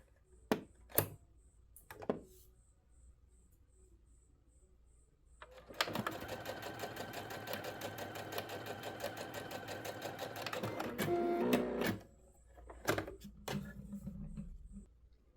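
A Singer SE9185 sewing machine runs a long 5 mm straight stitch in one continuous stretch of about six seconds, with rapid even needle pulses. Isolated clicks and light handling knocks come before and after it.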